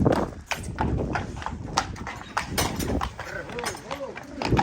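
Horses walking nearby, hooves clip-clopping in an irregular stream of sharp knocks, with people talking over them throughout.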